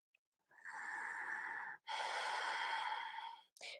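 Slow, deep yoga breaths into the belly: a long steady inhale followed by an even longer exhale, close and soft, with a brief breath starting at the end.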